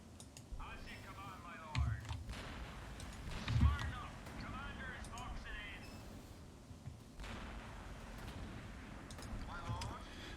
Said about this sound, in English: Now I can actually smack this thing with artillery.